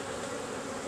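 Honey bees buzz in a thick, continuous drone close by during a September hive inspection, a steady swarm hum with no pauses and no voices.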